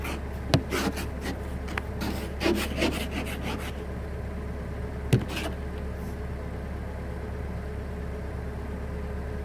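Ice is scraped off a car door handle on a cold morning, with several sharp rasping scrapes in quick bursts close to the recorder over a constant low hum, then a single hard scrape and quiet.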